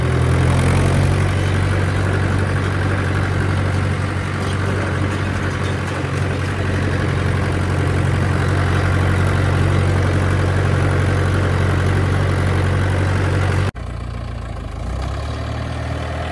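A tractor engine runs steadily at idle, a loud low throbbing drone with a strong rumble that continues without pause until it suddenly drops in level near the end.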